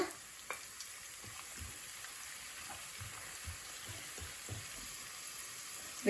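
Chopped green chilli and curry leaves fry with ginger and garlic in hot oil for a crab roast, a soft continuous sizzle with faint stirring clicks, fairly quiet, no voices.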